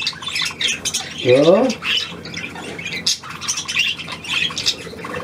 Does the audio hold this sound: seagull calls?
yes